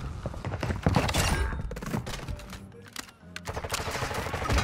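Rapid video game gunfire, dense bursts of automatic shots and thuds, loud and continuous with a brief lull before firing resumes.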